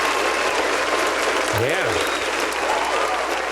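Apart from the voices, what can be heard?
round of applause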